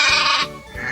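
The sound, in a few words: sheep bleating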